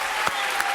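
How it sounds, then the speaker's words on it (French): A television studio audience on a French talk show applauds, a brief, steady wash of clapping with a couple of sharper claps standing out. "applaudissements pour Jean-Pierre, c'est son anniversaire."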